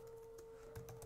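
Quiet computer keyboard typing, a few sparse keystrokes and then a quick cluster of clicks near the end, heard close over a faint steady hum.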